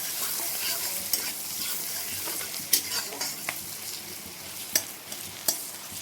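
Hilsa fish frying in a pan, with a steady broadband sizzle running throughout and a few sharp clinks from a utensil stirring or touching the pan.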